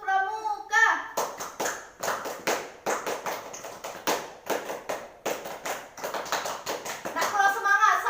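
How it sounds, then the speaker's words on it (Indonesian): Children in a primary school classroom perform the Indonesian scout clap, a patterned sequence of sharp, rhythmic claps in bursts, close and loud, with children's voices chanting and calling around the clapping. "ayo kita tepuk pramuka dulu terus bareng-bareng"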